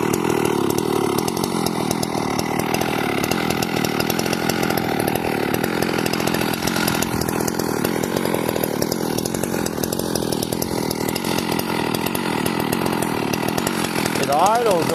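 A Sachs Dolmar chainsaw with ignition timing trouble runs loud and close, its engine holding a steady high drone while cutting through apple branches, with no break in the whine.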